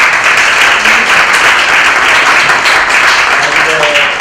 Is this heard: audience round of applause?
yes